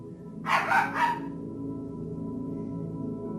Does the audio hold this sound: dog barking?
yes